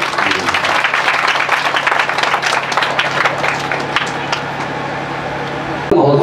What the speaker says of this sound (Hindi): ताली बजाकर बड़ा स्वागत करेंगे।